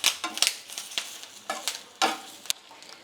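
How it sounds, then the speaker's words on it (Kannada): Chicken sukka frying in a pan with curry leaves, crackling and sizzling in bursts alongside repeated stirring scrapes, close and fairly quiet, with no voices. "ಚೆನ್ನಾಗಿ ಇದನ್ನು ಫ್ರೈ ಮಾಡ್ಕೋಬೇಕು."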